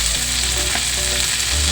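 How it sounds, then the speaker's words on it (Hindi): Onions and fenugreek leaves fry over a high flame in a pan for an Indian methi pyaj sabzi, a loud, continuous hissing sizzle with faint stirring, and nobody speaks. "सो गाइस देखिए हमारे प्याज अच्छे से फ्राई हो चुके हैं।"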